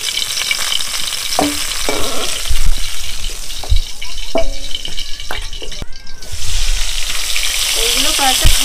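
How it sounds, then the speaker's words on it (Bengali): Pointed gourd (potol) slices fry in hot oil with a steady, close sizzle, broken by several sharp clinks and scrapes of a spatula against the pan. "এইগুলো কয়েকটা খাবার পটল ভেজে নিচ্ছি, তার দিয়ে খাওয়া হবে।"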